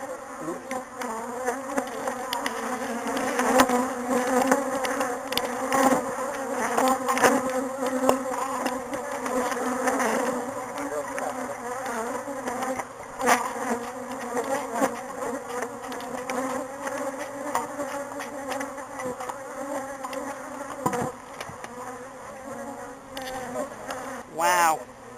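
A steady, dense buzzing of many bees swarms close by during a bee removal near exposed comb, continuous throughout with shifting intensity.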